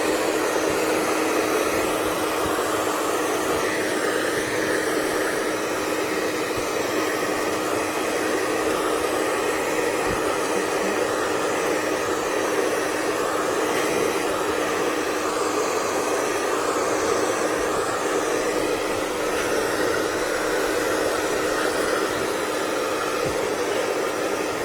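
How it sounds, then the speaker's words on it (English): A handheld blow dryer runs steadily on hair during a weave-care routine, giving a loud, continuous airy whoosh with a constant motor hum and no break for the whole stretch. "then you get your blow dryer. Your blow dryer, you put it on."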